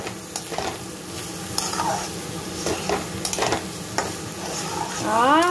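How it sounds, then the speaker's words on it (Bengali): Rice stirred into hot ghee in a pan for basanti pulao, a close sizzle broken by repeated scraping and tapping of the spoon against the pan, with a brief rising squeak near the end. "চালটা আমি ভালোভাবে এর সাথে মিলিয়ে নিচ্ছি"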